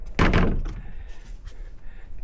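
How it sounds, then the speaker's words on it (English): A cottage door at a private hideaway villa closes with a single solid thunk, followed by a short quiet room tail. "Let me close this door as well."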